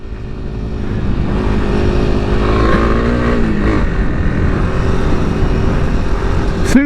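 A Kawasaki KLX300SM supermoto motorcycle engine drones loudly and close while being ridden, with a steady throttle hum and a slight pitch rise and fall midway, then a sharp squeal at the very end.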